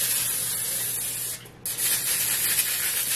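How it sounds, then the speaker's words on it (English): Pam cooking spray sprayed onto a pan in a kitchen: a close, steady aerosol hiss broken by one short pause before the spraying resumes. "I'm just gonna put some Pam on the pan"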